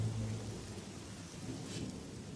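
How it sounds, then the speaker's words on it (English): Steady rain pours down over an outdoor driving course, a dense, even hiss with a low rumbling undertone that holds at the same level throughout, with no voices. "rain has moved in."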